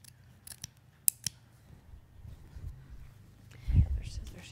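Scissors snip through craft material in a few short, sharp cuts followed by rustling and handling noise, close and fairly quiet with no talking.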